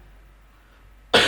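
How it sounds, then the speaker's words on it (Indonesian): A single sharp cough from a lecturer with a week-long cold, bursting loud and close after near silence. "saya agak batuk karena hampir seminggu ini saya batuk pilek"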